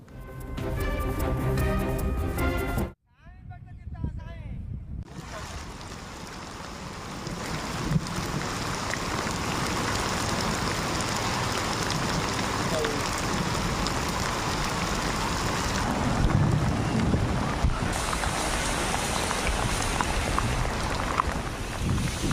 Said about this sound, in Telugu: ఉరుములు మెరుపులతో కూడిన అకాల వర్షం కురిసింది